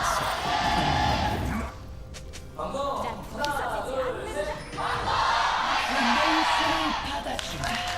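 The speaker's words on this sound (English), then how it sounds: "you guys might notice the crowd is very loud" A large arena crowd at an LCK League of Legends esports match roars and cheers loudly throughout, with a voice speaking over the din and swells of noise rising and falling.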